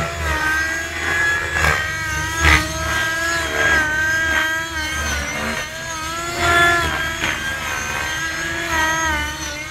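Trex 600 LE RC helicopter with an OS55 nitro engine and boost pipe, whining steadily with rising and falling pitch surges, loud and close throughout.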